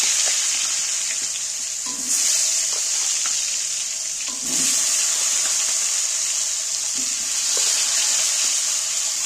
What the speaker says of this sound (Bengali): এইবার আমি আলুগুলোকে তেলের মধ্যে তুলে দিচ্ছি।